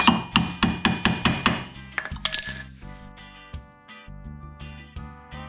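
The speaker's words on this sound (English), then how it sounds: "I'm going to stick a wrench, some vice grips. I'm going to cinch on that, and then I'm going to tap on this." A hammer strikes a wrench and vice grips clamped on a tight cotter pin during axle U-joint removal on an FL350R, sounding as a rapid run of sharp metallic taps followed by lighter scattered clinks and rattles.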